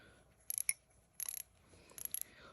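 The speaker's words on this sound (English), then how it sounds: "These are ratchets." An old Craftsman ratchet wrench clicks in three short bursts of rapid metallic pawl ticks, close and crisp, separated by brief quiet gaps.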